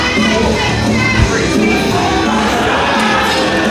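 A crowd at a live professional wrestling show cheers after a match, a dense, steady roar of many voices that fills the space from start to end.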